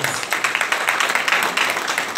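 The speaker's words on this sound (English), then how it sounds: "Clap on to the Lord for the life of the Pharisees." A church congregation claps during a Sunday service, a steady fast run of many hands beating together in an even rhythm, close and full, with faint voices mixed underneath.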